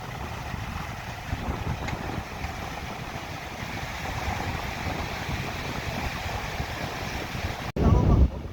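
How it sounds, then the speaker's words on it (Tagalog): Steady broadband wind roar at sea with low rumbling surf underneath, continuous and fairly loud, ending in a sharp gusty buffet against the microphone. "Lumakas na naman ang hangin."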